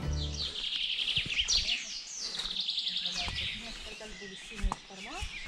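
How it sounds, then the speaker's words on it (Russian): Many birds chirp and sing in the shade of a relict forest grove on the Kinburn peninsula, bright overlapping calls fairly close, with a person talking at moments. "Но послушайте только пение птиц."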